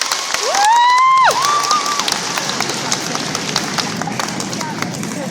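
A concert audience gives a round of applause, a dense, loud wash of clapping and cheering that carries on throughout, with a high sustained whoop or vocal cry rising above it near the start.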